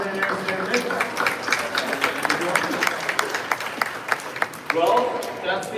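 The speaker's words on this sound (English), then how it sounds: "Round of applause for Natalie and Aaron." A conference crowd at a Southeast Asia event claps warmly for two speakers, a dense run of applause with sharp individual claps, and a voice talking over it near the end.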